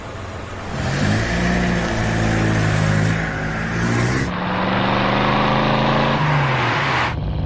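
A car engine revs and accelerates under way, rising and falling through several gear-like pitch sweeps with a steady mid-range drone, heard close and fairly loud without any talking.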